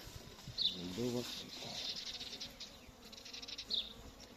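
Honeybees hum and buzz close by while being fed syrup, a steady insect drone with a few brief chirps and sounds of handling mixed in.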